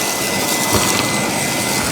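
A Fanttik V10 Ultra cordless fold vacuum running on low suction, a steady close whooshing motor hum with airflow noise.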